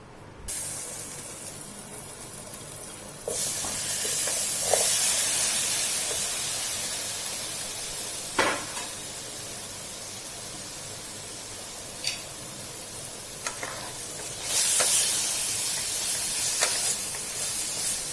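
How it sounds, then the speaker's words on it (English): Chopped tomatoes sauté in olive oil in a hot pan over a medium-high flame, giving a steady close sizzling hiss with a few louder bursts and pops. "We'll saute them on a medium-high flame."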